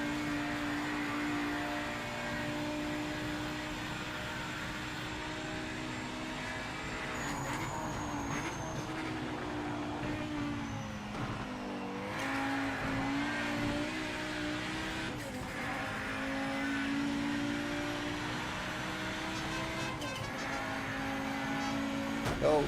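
A race car drifting in the racing game Project Motor Racing, a steady engine drone with tonal revs that rise and fall and occasional tire scrubbing, continuous and fairly close.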